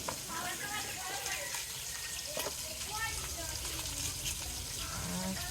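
Pumpkin pieces, cut large, frying in a pan in a home kitchen, a steady close crackling sizzle running throughout with scattered spits and pops.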